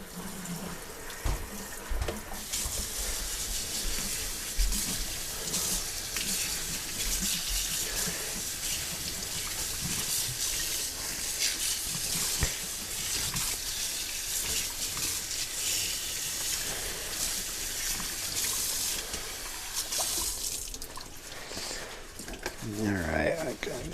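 Water runs steadily from a kitchen tap while a cloth kava strainer bag is rinsed out, a continuous splashing gush lasting the whole stretch with shifting intensity as the bag is moved under the stream.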